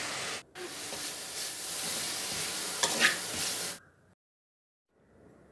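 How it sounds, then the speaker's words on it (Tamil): Onions with salt and ground spice powder fry in a pan, giving a loud, steady sizzle with stirring scrapes that stops abruptly, followed by quiet and a faint return of sizzling. "இப்போ நாங்கள் அரைச்ச பவுடரையும் சேர்த்து நல்லா புரட்டி விடணும்"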